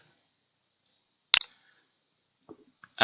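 A mouse clicks on a settings cog, giving a few faint, isolated clicks with one sharper click in the middle of a quiet room.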